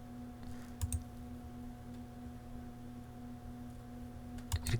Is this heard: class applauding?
no